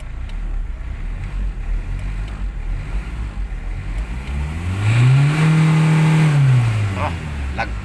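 A Hyundai Accent CRDi diesel engine, recently repaired after a fuel pump fault, idles steadily and then revs up to a sustained high pitch before dropping back, heard close and loud with wind-like background noise.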